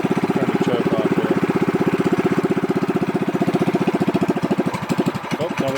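A Predator 212 engine on a Monster Moto minibike, fitted with a cheap performance air filter and run on partial choke, putters at a close, loud, steady rapid beat, then stumbles and loses rhythm near the end.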